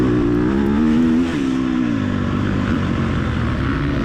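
Several KTM and Kawasaki dirt bikes racing on a hot, dusty ranch course, engines revving loudly and close, a strong rising whine that eases back after about a second and keeps droning.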